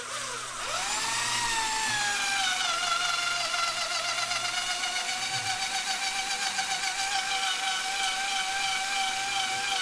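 A power tool, an angle grinder, spins up in a gory horror film scene, rising to a steady, loud high-pitched whine that holds for several seconds with slight wavering, alone without speech.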